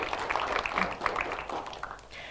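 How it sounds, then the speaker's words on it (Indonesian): An audience at a regional parliament dialogue forum claps in scattered, uneven bursts. The clapping is moderately loud and tapers off toward the end. "Boleh tepuk tangan kembali."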